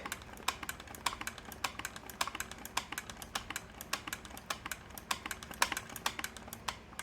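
Rapid, steady clicking of an 1883 Singer Improved Family sewing machine's mechanism, close and fairly quiet, a continuous run of sharp ticks with no talking.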